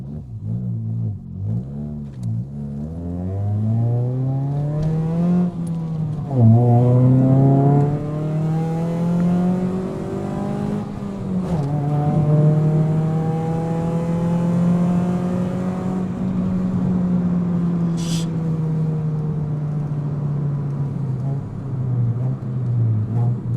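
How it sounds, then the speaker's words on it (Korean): A four-cylinder Hyundai Tuscani with loud straight-pipe exhaust revs up hard to 6,000 rpm, pitch climbing high and holding a raspy roar before easing down, close and loud. "이게 대포배기 테스트 마지막이잖아"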